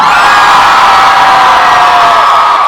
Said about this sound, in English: If you're a Harry Potter fan, let me hear you scream!